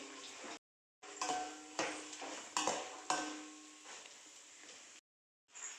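Chana dal being stirred and roasted in a pan: a ladle scrapes and clinks against the metal in repeated strokes over a soft sizzle, with brief silent gaps between stirs.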